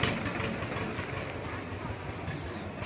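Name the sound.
motorcycle engine idling, vendor arriving on a bike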